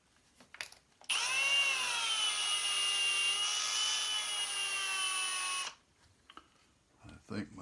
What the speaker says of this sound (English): I think my drill's kind of screwed up